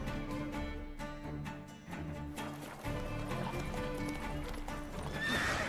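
Horse hooves clip-clop steadily in The Witcher 3, joined by a whinny near the end, all loud and close over a busy game soundscape with no talk.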